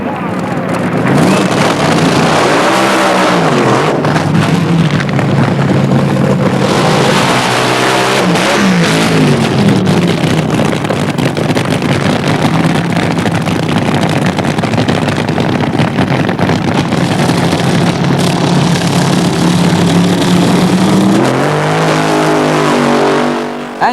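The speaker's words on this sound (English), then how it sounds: "And now the big one, the final of Pro Fuel Dragster." Pro Fuel Dragsters race in a 1973 final at Santa Pod, engines roaring loud and continuous for the full run with rising and falling revs, an announcer's voice talking over the din.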